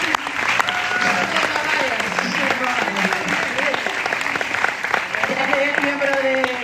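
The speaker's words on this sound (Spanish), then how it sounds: "Un fuerte aplauso." An audience applauds a podcast guest, a mountaineer and sports psychologist, with steady, close clapping that fills the whole stretch while voices talk over it.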